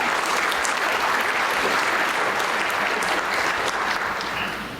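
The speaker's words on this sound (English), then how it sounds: "Yeah, you can clap for that." Sustained audience applause fills a conference plenary hall at IGARSS 2023, a geoscience and remote sensing symposium; dense, steady clapping from a large crowd that holds throughout and tapers slightly at the end.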